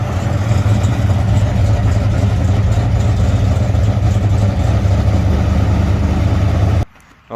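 Dodge Charger engine running loud and close with a steady, deep idle rumble that holds throughout before cutting off abruptly near the end; no voices.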